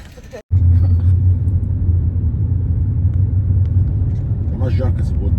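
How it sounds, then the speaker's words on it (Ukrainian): Interior of a moving car: a steady low engine and road rumble fills the cabin after a brief dropout at the start, with faint voices murmuring near the end. "Ми їдемо в машині."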